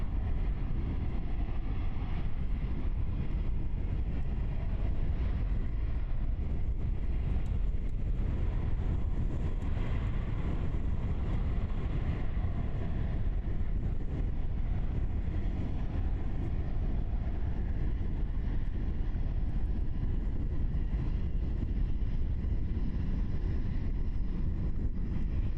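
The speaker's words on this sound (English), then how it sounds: "Great to see you, Dreamliner, at Christchurch Airport." Continuous low rumbling roar of a Boeing 787 Dreamliner at Christchurch Airport, steady and broad at moderate distance, with no talk over it.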